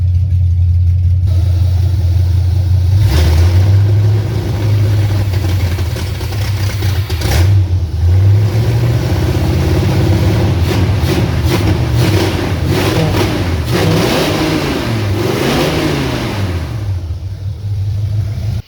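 An old car with a faulty carburetor idles loudly and steadily while warming up, its low engine drone close and constant, with the pitch wavering and rising briefly as the idle surges.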